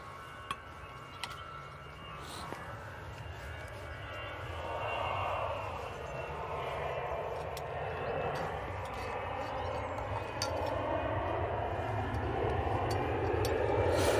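An easyJet Airbus A320-200 takes off from an intersection at Manchester Airport, its jet engine roar building steadily from a distant rumble, with a few sharp clicks and people talking nearby.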